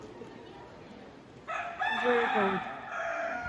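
A rooster crows loudly inside the echoing Batu Caves near Kuala Lumpur, one long rising and falling call cutting in after a brief quiet stretch, with a voice speaking faintly before it.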